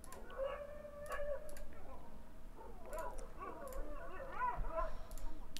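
Dog barking and howling in The Last of Us, a few yelps and drawn-out howls spread across the stretch, moderately loud against a dark, tense game ambience with a voice talking over it.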